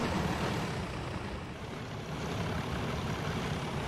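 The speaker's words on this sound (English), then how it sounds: "that diesel's coming pretty quickly" A diesel train in Train Simulator 2021 on a Mid-Devon route rushes past at speed, producing a steady, loud, broadband engine roar and rumble with no break.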